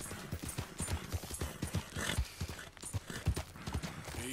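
Horse hooves clip-clop in Red Dead Redemption 2, a brisk, fairly quiet rhythmic walking gait with regular thuds that continue throughout, plus a faint whinny.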